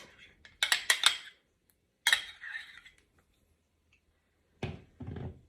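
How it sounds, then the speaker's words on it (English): A spoon clinks and scrapes against a bowl while mayonnaise and garlic are mixed, in a few short bursts separated by pauses, moderately close and without talk. "what we're going to do now is we're going to mix the mayonnaise"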